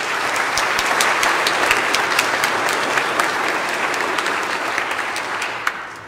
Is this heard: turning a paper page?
no